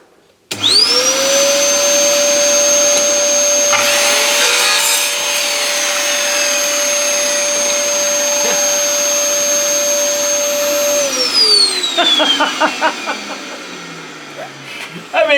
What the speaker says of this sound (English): here's the actual vac in the corner, it's plugged in, works on the switch on the wall